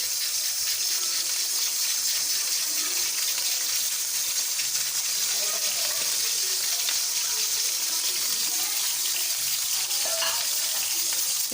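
Chopped onions frying in about a cup of hot cooking oil, a steady, loud, hissing sizzle that fills the whole stretch, with occasional soft stirring clicks and no talk.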